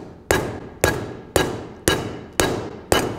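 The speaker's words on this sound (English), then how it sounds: "I'm going to start hitting the metal like this to make it, it's going to stretch a little bit in the middle" A hammer strikes sheet metal six times at an even, steady pace, each blow a sharp metallic clang that rings out and then fades, close and loud, while the metal is stretched into a compound curve for custom car bodywork.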